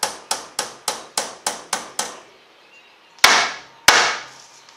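Hammer driving nails into wooden model-railway benchwork: eight fast, evenly spaced sharp knocks, then a pause and two harder, louder whacks, close and ringing slightly in a room.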